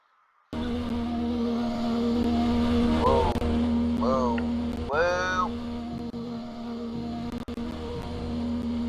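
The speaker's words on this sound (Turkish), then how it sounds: "Sen lastik yakıyorsun oğlum ben normal gaza basıyorum" A car in the Roblox game Driving Empire revs hard at a drag race start, a loud sustained engine roar with rising pitch sweeps as it burns rubber.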